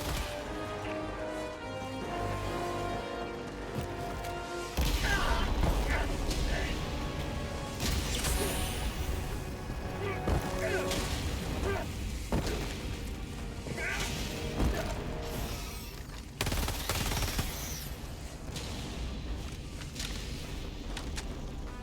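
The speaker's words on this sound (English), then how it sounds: "Firing orbital barrage." Orbital barrage artillery strike in Helldivers 2, a run of heavy crashing impacts and booms rolling on over many seconds, with someone talking throughout.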